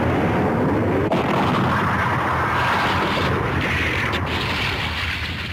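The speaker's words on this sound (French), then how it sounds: "L'explosion vient de se produire à environ 2 km d'ici." A sustained, loud explosion rumble from about two kilometres away, linked to volcanic activity near an observatory, rolls on continuously for several seconds with a couple of sharp cracks within the roar.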